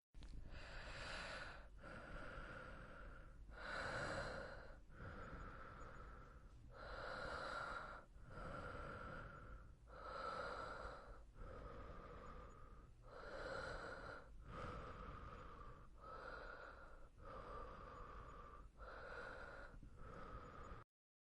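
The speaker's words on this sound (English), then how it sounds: "Take some deep breaths with me." Slow, deep breaths in a calm comfort roleplay: a steady series of about a dozen long inhale and exhale cycles, close and breathy, with no words spoken.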